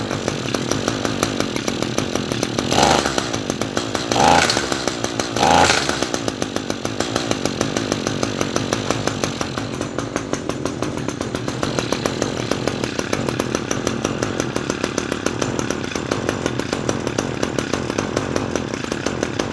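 An Echo SRM-225 string trimmer's small two-stroke engine runs after a carburetor repair, a loud, steady close buzz with a few brief revving surges early on.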